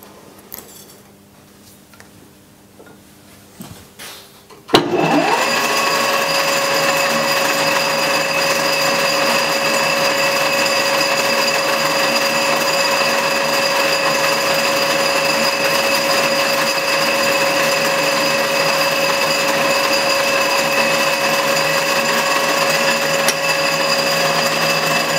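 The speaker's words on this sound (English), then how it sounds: "First, some center drilling." A lathe center drilling a hole on a Fresnel adapter part, a steady loud machine whine with constant tones that starts abruptly after a few seconds of quieter handling and runs unbroken to the end.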